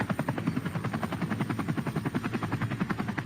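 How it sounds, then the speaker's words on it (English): Police helicopter rotor thumping overhead with a loud, rapid, steady blade pulse that continues without a break. "Now we feel like we're in a chopper."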